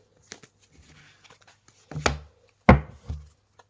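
Oracle cards being shuffled by hand in a few quick papery riffles and slaps that grow louder toward the end, close and alone with no voices.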